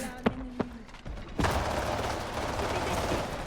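A no-scope gunshot in the video game Highguard: two sharp, close shots ring out, followed by a loud, sustained burst of gunfire and noise that fills the rest of the moment.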